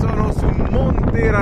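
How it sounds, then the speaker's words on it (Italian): Strong wind buffets the microphone on Monte Razzano near Campagnano, a loud continuous roar with gusty swells throughout, with a voice faintly present beneath it. "c'è vento oggi in montagna."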